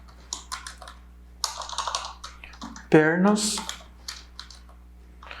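Quick bursts of clicking keystrokes on a computer keyboard, near and crisp, with someone speaking briefly partway through.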